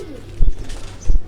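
Breeder pigeons coo in soft low bursts close by, two throaty pulses over a murmuring background in a loft on a warm day.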